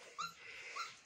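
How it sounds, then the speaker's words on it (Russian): Caucasian Shepherd puppies, small and dirty, give two short high whimpers close by, one near the start and one near the end, over a soft breathy background. "Это маленькие собака. Маленькие такие все чумазые, грязные."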